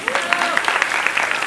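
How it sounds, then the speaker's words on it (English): Audience applause for a college student at a national college event, steady crowd clapping filling the space at moderate loudness, with voices and chatter mixed in underneath. "Big round of applause for Vinesh."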